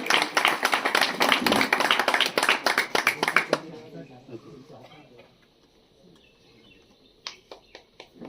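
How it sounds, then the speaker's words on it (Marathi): An audience claps at a village goddess anniversary celebration, a dense, steady burst for about three and a half seconds that then thins into a few scattered claps and fades, with faint background murmur. "त्यांच्यासाठी जोरदार टाळ्या वाजवायच्या."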